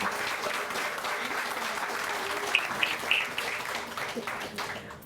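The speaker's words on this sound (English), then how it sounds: "let's give a round of applause for our Deputy Director of Department of Public Works and Transportation, Olashe Olabenro" An indoor audience at a Prince George's County public works and transportation launch event claps steadily and moderately loudly for the Deputy Director of Public Works and Transportation, with no voices over the applause.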